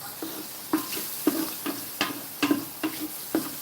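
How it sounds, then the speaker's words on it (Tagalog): Mushrooms frying with onions and garlic in a pan during a pasta carbonara cook: a soft steady sizzle broken by repeated clacks and scrapes of stirring at an irregular pace, close by, with no talk. "So, cooking now the mushroom."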